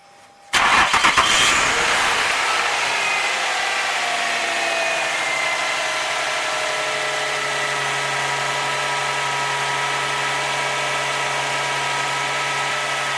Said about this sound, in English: Go ahead and start it up.